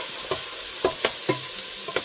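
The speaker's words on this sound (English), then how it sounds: "I've got some onions in here, cooking away, frying them off." Onions frying in a pan with a little oil, sizzling steadily while a spoon or spatula stirs them with several distinct scrapes and knocks; no one speaks.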